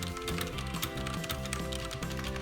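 Rapid typing on a Logitech G710+ gaming keyboard with Cherry MX Brown switches, a dense, steady run of clicky keystrokes close up and without pauses.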